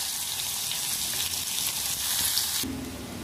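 Onions frying in hot oil for khichuri tempering with dried and green chillies, a loud continuous hiss and crackle that shifts to a deeper tone near the end.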